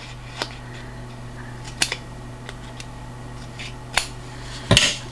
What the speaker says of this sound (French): Donc je vais couper un petit peu, biseauter.